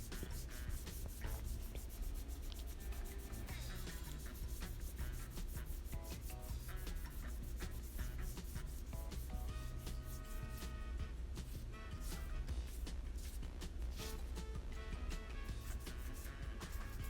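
Fine-grit Duragold sandpaper rubs steadily by hand during a door frame repair, a continuous, close, even scratching hiss without pauses and with no speech.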